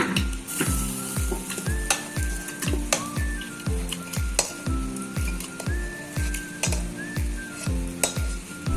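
Mutton and potatoes sizzling in a pan while being stirred briskly, with a regular rhythm of spatula scrapes and clinks against the metal over a constant close frying hiss.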